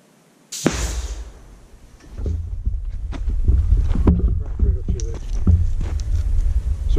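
Rock blasted apart with explosives, a single sudden loud boom followed by a lingering rumble and outdoor noise, with voices speaking afterward.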